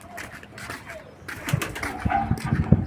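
A healthy racing pigeon coos in soft, repeated low calls, close by and fairly quiet, growing a little louder and more frequent toward the end.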